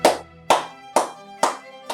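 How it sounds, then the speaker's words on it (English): Children clapping loudly in a music class, four sharp, evenly spaced claps close to the listener followed by the start of a fifth, each ringing briefly before the next. "Clap loud"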